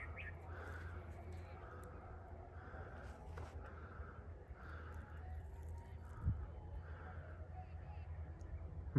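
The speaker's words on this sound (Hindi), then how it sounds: "ये एक और कोयल बर्ड" An Asian koel near a village gives a repeated, evenly spaced call, faint and distant over a constant low hum.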